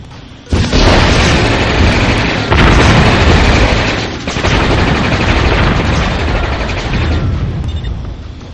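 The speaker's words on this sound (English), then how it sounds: "Laser satellite firing." Laser satellite strike in the Warzone 2100 video game: a sudden loud, roaring blast that rumbles on for several seconds, with a second surge midway and a sustained booming rush.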